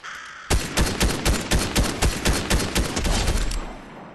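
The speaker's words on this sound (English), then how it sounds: "Oh, there's a bird." Rapid, evenly spaced bursts of loud game gunfire in Fortnite, close and steady for several seconds, rather than any bird cawing.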